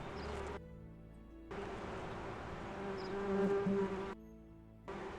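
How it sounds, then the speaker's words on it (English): Bees buzz in a video game, a steady droning hum that cuts in and out in loud bursts over a low background, with no speech. "Fuck off, bees."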